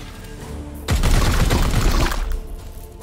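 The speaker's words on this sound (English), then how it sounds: "Let's simply shoot him." Gunfire erupts in Warhammer 40,000: Chaos Gate Daemonhunters as a loud, dense burst of rapid shots and booms that lasts over a second before dying down, with no talk.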